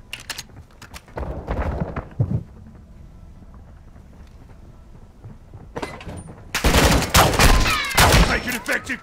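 Bursts of Call of Duty gunfire with a quieter stretch between, rising to a loud, dense fusillade of rapid shots toward the end, with wind noise beneath.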